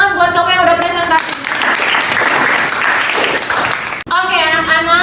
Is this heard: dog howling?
no